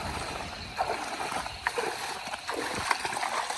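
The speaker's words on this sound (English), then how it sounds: "We're gonna try to paddle the rest of the way." A canoe being paddled through water in a narrow swamp ditch, with soft splashes and sloshing strokes repeating under faint outdoor ambience, no talking.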